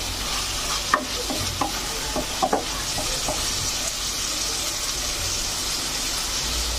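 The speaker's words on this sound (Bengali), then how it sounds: "ভালো মতো মুরগিটাকে মশলার সাথে ভালো মতো কিছুক্ষণ কষিয়ে নেওয়ার জন্য" Chicken pieces coated in spices fry in a pan, a loud continuous sizzle with several scraping clicks of a spoon stirring, close up.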